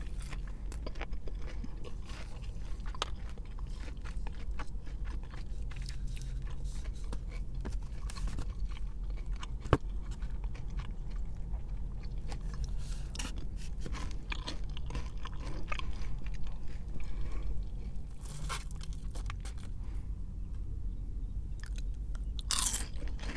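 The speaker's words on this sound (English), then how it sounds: "Oh, I love when that little fried bit is just perfect. Got that little crispity crunch." Close, crisp crunching and chewing of Raising Cane's fried chicken, steady bites and mastication continuing throughout with no talking.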